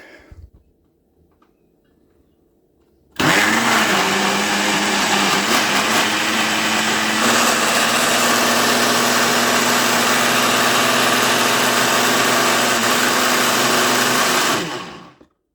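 Russell Hobbs Power Boost RHBL700 blender kicks on abruptly after a few quiet seconds, then a loud steady motor whine with shifting pitch as contents churn, running about twelve seconds before spinning down.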